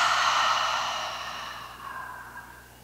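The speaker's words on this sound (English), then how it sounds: "And last exhale out." A single long, deep exhale flows out through the mouth during a calming desk breathing practice. It is close and airy, strongest at first and then tapering off slowly over almost three seconds.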